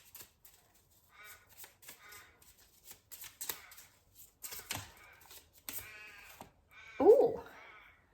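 Cards are shuffled in short, crisp riffling bursts, close and quiet, with a soft voice and a brief louder vocal sound near the end.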